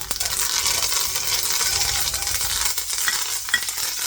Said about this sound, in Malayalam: കടുക് പൊട്ടി തുടങ്ങിയിട്ടുണ്ട് പാൻ നല്ല ചൂടായിരുന്നേ അപ്പോൾ കറിവേപ്പിലയും മറ്റൊരു മുളകും ചേർത്ത് ഞാൻ ഓഫ് ചെയ്തു